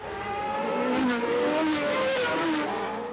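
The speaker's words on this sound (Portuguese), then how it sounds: "Senna força pelo meio. Berger vem na ponta, Senna vem forçando, vem buscando posicionamento" Formula 1 race cars scream past during a race, high-pitched engines climbing and dropping in pitch as the cars rush by, loud and close without voices.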